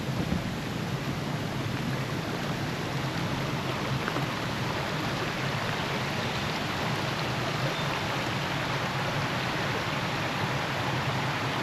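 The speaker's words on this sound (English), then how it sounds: "just this little short walk to this really pretty waterfall" A waterfall and creek flowing at a campground near Pebbly Beach, New South Wales, give a steady, dense rush of water that holds even for the whole stretch, with no voices.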